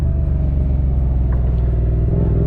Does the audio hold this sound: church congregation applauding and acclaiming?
no